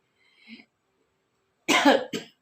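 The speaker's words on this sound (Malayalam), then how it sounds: "ചെറിയൊരു ചുമയുണ്ട്" A faint small cough, a pause, then a louder, nearby cough in two quick bursts.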